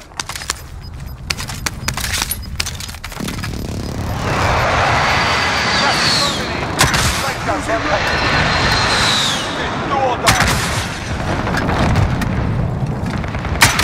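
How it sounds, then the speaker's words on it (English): Airstrike explosions and aircraft noise in Call of Duty Warzone: a loud, sustained rumbling roar of jets and booming blasts from about 4 to 10 seconds, with sharp gunfire-like cracks scattered throughout and voices talking over it. "Be advised, friendly there position airstrike inbound."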